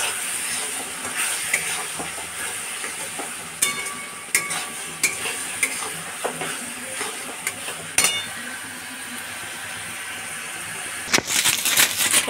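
Onions sauté in a little oil in a pan while cooking chicken kosha, a continuous soft sizzle with intermittent spatula scrapes and stirring knocks, and a louder clatter toward the end.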